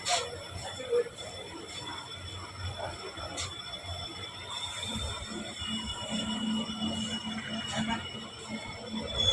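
A passenger train travelling on the Shoranur to Nilambur line keeps up a steady, continuous rumble of wheels and carriage noise, with faint rattles and occasional squeaks throughout.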